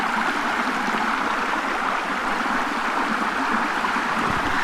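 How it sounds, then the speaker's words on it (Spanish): A steady, dense rush of a lot of water flowing down beside a road, constant and fairly loud throughout with no breaks. "por aquí baja mucha agua, pero esto único en la carretera"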